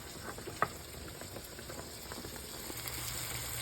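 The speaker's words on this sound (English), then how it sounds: "There's the bacon frying in its little nest." Bacon fries in a pan with a steady, soft crackling sizzle, faint and continuous, broken by one brief louder pop early on, no voices over it.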